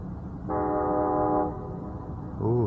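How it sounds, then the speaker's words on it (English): A passing train in Fairbanks, Alaska sounds a sustained horn blast for about a second, then a shorter second blast follows over a low rumble, fairly loud and at a moderate distance. "hear the train?"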